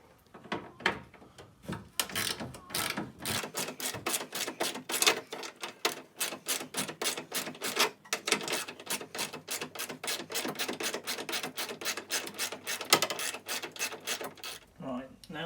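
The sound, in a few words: socket ratchet turning bolt on Porsche headlight bracket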